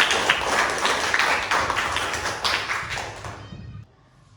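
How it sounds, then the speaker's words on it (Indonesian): A classroom of students claps for a presenting group, a burst of brisk, uneven applause that carries on steadily, then fades and stops near the end. "Beri tepuk tangan untuk kelompok 5."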